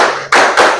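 Schoolchildren in a sixth-grade classroom clap in a counting rhythm, producing a sustained group clapping burst followed by two sharp, loud clap onsets close together, with no talking.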